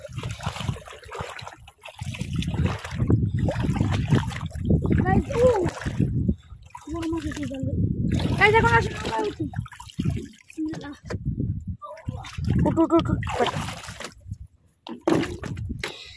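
Water splashes and sloshes around a small wooden boat as people climb aboard to go fishing near Munshiganj, close and continuous, with excited voices and someone talking over it.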